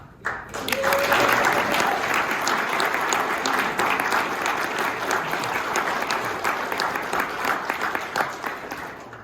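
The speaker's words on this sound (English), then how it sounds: "an appreciative round of applause for everything that they do" Audience applause at a Brockville chamber of commerce event fills the room right after a brief pause, a dense, steady roar of clapping that holds for about nine seconds with a faint cheer near the start.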